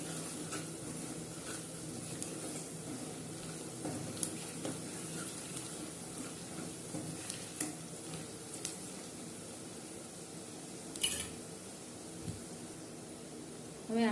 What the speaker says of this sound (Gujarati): આપણે એકવાર હલાવી લઈશું.